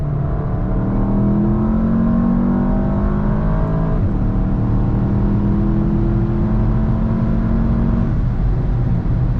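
A VW MK7 GTI with an APR DTR6054 turbo pulls hard in third gear from 4,000 rpm, engine tone rising steadily under sustained throttle, heard loud from inside the cabin, with a brief dip around a shift before climbing again.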